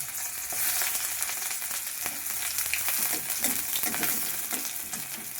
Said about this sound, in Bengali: ফার্স্টে পেঁয়াজ দিয়ে দিই অল্প করে।